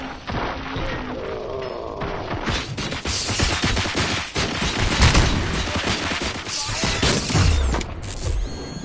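Gunfire rattles through a RoboCop: Rogue City firefight: mechanical whirring gives way to loud, sustained bursts of shots and crashing impacts that keep up for several seconds, with some distant rumbling under them.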